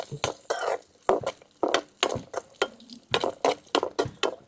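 Raisins fry in a pan for carrot and bottle gourd payasam while a spoon scrapes and stirs in sharp, rhythmic strokes, about a dozen loud clinks and scrapes over a faint sizzle.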